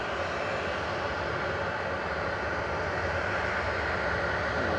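Steady, loud broadband roar of a Qatar Airways airliner passing at Manchester Airport, a continuous engine rumble holding even through the whole stretch with no voices.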